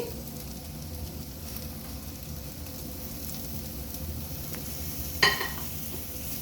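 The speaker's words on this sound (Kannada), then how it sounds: "ಹಾಕಿ ಚೆನ್ನಾಗಿ ಹುರ್ಕೊಳ್ಬೇಕು" Egg bhurji with coriander leaves sizzles steadily in a pan, a close, even frying hiss broken near the end by a sharp scrape of stirring, with no voices.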